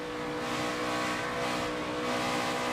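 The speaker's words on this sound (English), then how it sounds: "Listen to that throttle, on and off the throttle." NASCAR Cup Series race car engine at Dover, throttle cycling on and off in a steady loud onboard roar with no pause.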